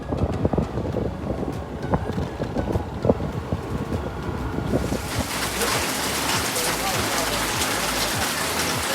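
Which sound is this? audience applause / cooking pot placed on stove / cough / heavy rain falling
heavy rain falling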